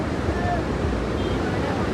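Heavy floodwater rushes past a bridge in Nashik during a major flood, a dense, continuous roar close by with wind buffeting the microphone.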